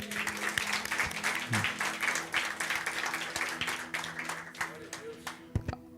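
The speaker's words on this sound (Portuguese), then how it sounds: "Vamos dar um aplauso ao Senhor por isso?" Applause from a church congregation, many hands clapping steadily and filling the room at moderate loudness, with a faint tonal hum beneath and a couple of sharper claps near the end.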